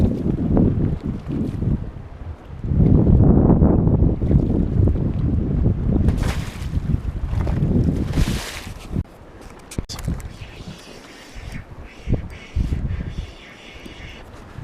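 Gusty wind buffets the microphone out on Flaming Gorge while fishing for lake trout from a boat, rising and falling in loud rumbling surges with softer lulls and faint water sounds between.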